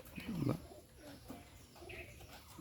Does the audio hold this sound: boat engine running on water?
no